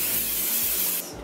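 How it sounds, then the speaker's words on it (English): A short hissing burst of cooking oil spray onto a pan, steady and close, cutting off abruptly near the end. "I'm gonna use a little bit of cooking oil spray on the pan too"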